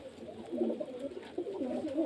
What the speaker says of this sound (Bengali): সব মুর্শিদাবাদের গিরিবাজ পায়রা আছে